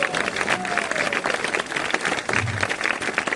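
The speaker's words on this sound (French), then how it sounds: "Je voudrais qu'on l'applaudisse." A concert crowd at a show in the Var applauds the keyboard player, a dense, sustained clapping that stays at an even level, with a faint tone and low thump briefly beneath it.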